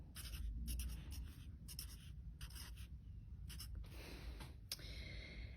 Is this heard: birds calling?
no